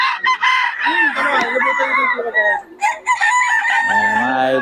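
Stag roosters crow repeatedly at a gamefowl sale in Bocaue, several loud overlapping cock-a-doodle-doos close by, with clucking between calls.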